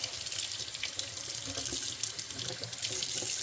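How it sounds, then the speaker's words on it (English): A kitchen tap runs steadily into a sink while greens are washed leaf by leaf for canning, a continuous close splashing stream with no voices. "I'm going to go ahead and start washing my greens."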